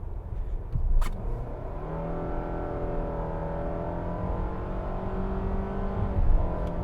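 A 2025 Mitsubishi Outlander engine with 181 horsepower accelerates, heard from inside as a steady droning hum with a rising tone, under a constant rumble of road noise.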